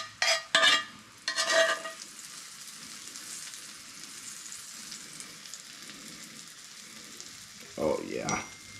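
Onions caramelizing in a frying pan give a soft, steady sizzle, with a few louder bursts of stirring and scraping at the start and again near the end, close and fairly quiet.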